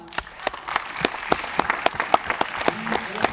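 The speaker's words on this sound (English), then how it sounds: "So big round of applause." Film festival awards ceremony audience claps at a moderate distance, sharp individual claps standing out in an uneven rhythm over a softer spread of applause, with a voice briefly audible near the end.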